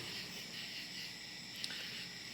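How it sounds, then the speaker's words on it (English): A dense, continuous chorus of crickets chirping, high and shimmering, steady throughout at a moderate distance. "I hear crickets chirping. Lots of crickets."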